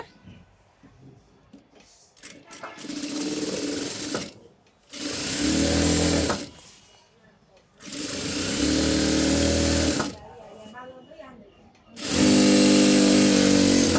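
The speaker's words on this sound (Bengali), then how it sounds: "এই দেখো আবার নিচের থেকে সেলাই করে হাইটা উপরের দিকে যাবে।" A sewing machine stitches fabric in three or four loud, sustained bursts of rapid mechanical whirring, separated by quieter pauses where a voice speaks.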